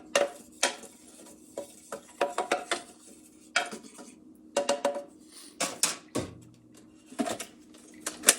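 Dried egg white being scraped down inside a container, with repeated scratchy scraping and clinking strokes in irregular bursts, close and fairly quiet, no talking.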